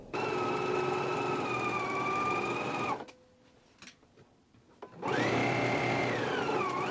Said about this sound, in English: So let's go ahead and do our stitching now.